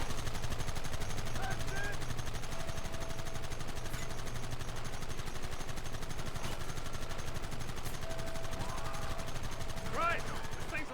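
Continuous rapid gunfire in the Red Dead Redemption video game, a steady dense rattle running the whole stretch under a constant rumbling background.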